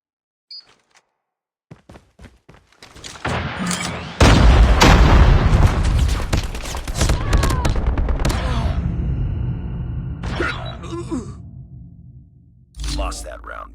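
Gunfire rings out during a video game gunfight, with scattered sharp shots building into a long, loud stretch of dense blasts and booms that fades, then a final burst.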